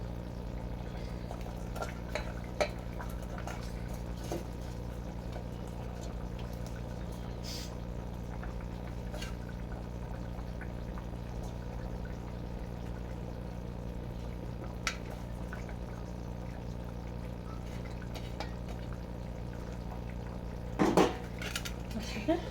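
Fish pieces, head first, added to a simmering pot of bean and potato curry, with faint bubbling, soft clinks of utensils against the pot and a louder clatter near the end, quiet and without talk.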